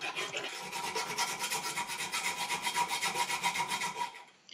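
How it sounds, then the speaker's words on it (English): A metal file rasping in quick, regular back-and-forth strokes on a hand-made hammer, close and steady, fading out at the very end. "I decided to finish everything with the file"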